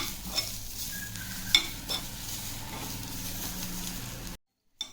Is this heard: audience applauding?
no